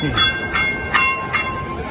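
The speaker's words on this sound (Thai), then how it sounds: "เพราะว่ารถรางมาครับ นะรถรางมานี่ก็จะมี ยุบลงไปนะครับ" A tram passing on Nanjing Road in Shanghai, with a rolling rumble and four evenly spaced metallic clacks as the wheels cross the track joints, close by.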